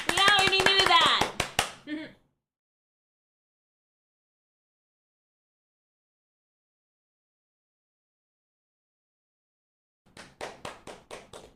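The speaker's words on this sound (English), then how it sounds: "Stop clapping. Stop clapping." A quick burst of hand claps near the start, then a long silence before another run of sharp claps near the end.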